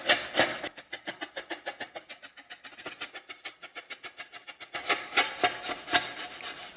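A plastic scraper sliding along the edge of a vehicle graphic, stripping it off in a quick run of rhythmic rasping strokes, close and fairly loud, with no talking.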